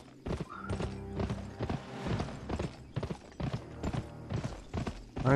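Hooves clip-clop in a quick, repeating rhythm as a horse gallops in the Western video game Gun, mechanical game sounds and a brief whinny-like tone mixed in.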